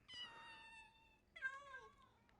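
A Minecraft cat gives two drawn-out meows, the second rising then falling, quiet and clear with nothing else around them.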